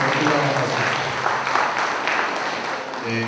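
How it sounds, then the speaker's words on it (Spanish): Audience applause welcoming a speaker at a civil procedure law lecture, sustained clapping from a hall that fades toward the end as a voice begins. "Recibimos con un fuerte aplauso"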